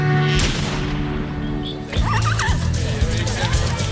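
A startled horse on a film set gives a loud, close whinny, joined by hoof clatter and a sharp crash, with people talking throughout.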